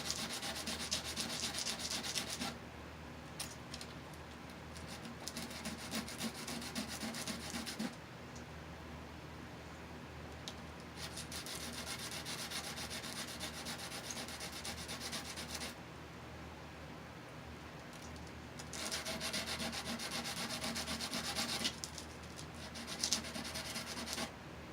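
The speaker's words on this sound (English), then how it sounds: "I'm going to take our sandpaper here and just sand this edge down a little bit on the, not the edge, but the terminal here" Sandpaper rubs back and forth on a metal terminal inside a Sony TC-WE305 tape deck before soldering, a steady close scratchy sanding that runs in long stretches with brief pauses and no speech.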